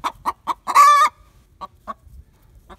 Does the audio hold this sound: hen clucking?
yes